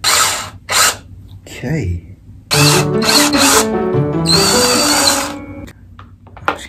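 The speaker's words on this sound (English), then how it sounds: "I've never drilled a hole in corn before" A power drill whirs in short bursts and then a longer sustained run while boring a hole into an ear of corn, the motor pitch shifting under load, with a brief spoken word between bursts.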